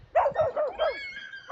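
A dog barks about five times in quick succession, close and fairly loud, with sharp yelping barks and a short whine-like tail at the end.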